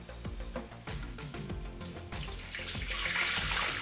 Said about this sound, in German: Dazu müssen wir die Garflüssigkeit umfüllen.